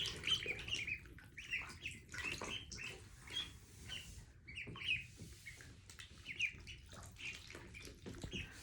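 Ducklings fresh from a swim in a bathtub give a constant stream of faint, high, squeaky peeps and chirps, overlapping and fairly quiet.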